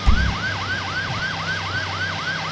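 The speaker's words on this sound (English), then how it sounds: "Now we're gonna flip our siren again." A police siren in a video game wails in fast, repeating up-and-down cycles, loud and steady throughout, over a low rumbling hum.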